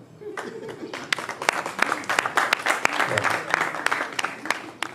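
An audience at a formal gathering breaks into applause for a performer, uneven clapping that builds into a fairly loud, steady patter over several seconds.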